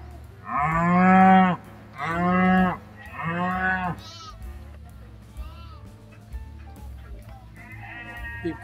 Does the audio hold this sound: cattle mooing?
yes